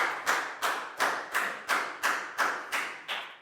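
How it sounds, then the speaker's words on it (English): A small group in a Year 4 English class gives a round of applause, heard as about nine evenly spaced claps in a steady rhythm, close and moderately loud, with no talking. "High five and a big round of applause for Pangpon."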